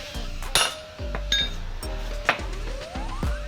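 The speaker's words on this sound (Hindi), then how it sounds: "उसके ऊपर एक और लोहे की चीज़ रख के उसके ऊपर हैमर से कूट रहे हैं" A hammer strikes an iron piece to drive a wheel bolt into place during a car wheel change, with several sharp metallic clanks spaced about a second apart that ring briefly after each blow.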